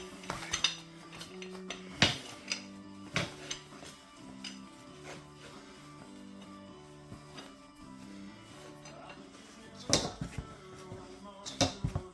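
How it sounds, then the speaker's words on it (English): Repeated metallic clinks and scraping clatter of a slide hammer being screwed back together during snowmobile hyfax replacement, with sharp taps scattered through and a louder cluster of hits near the end. "screw the slide hammer back up"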